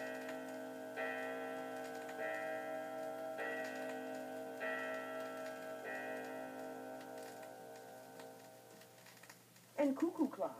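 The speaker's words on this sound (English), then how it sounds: "and grandfather clocks." A grandfather clock sounds evenly spaced, resonant tonal strikes that ring out and slowly fade, followed by a brief voice at the end.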